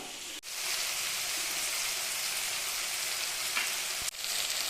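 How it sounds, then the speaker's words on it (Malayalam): An eggplant mixture roasting uncovered in a pan on a low flame: a steady, dense sizzle that runs close and unbroken, with a couple of brief knocks near the start and end. "എത്രത്തോളം റോസ്റ്റ് ആവണോ അത്രത്തോളം നിങ്ങൾക്ക് ലോ ഫ്ലെയിമിൽ ഇട്ടിട്ട് അങ്ങനെ റോസ്റ്റ് ചെയ്തെടുക്കാം കേട്ടോ"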